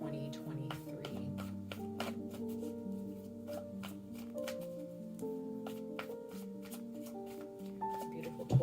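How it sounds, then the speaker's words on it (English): Tarot cards shuffled by hand, a soft steady riffle with crisp card flicks over a sustained background music bed, no talk. "Let's pull some tarot, you guys. We're going to pull 5 tarot cards"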